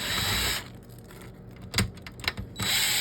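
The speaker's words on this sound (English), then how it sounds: "So you're pretty much going to take off almost all of the screws that you see." Screws are being removed from a Toyota Prius Prime 12-inch touch-screen radio and navigation assembly with a power driver, which whirs steadily at the start and end. Between the two runs come a few short clicks and handling knocks.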